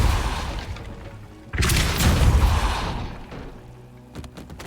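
The Depulso spell in Hogwarts Legacy, a forceful magical blast: a sudden loud whooshing boom at about 1.5 s that rumbles for over a second, then fades into softer ambient game sounds.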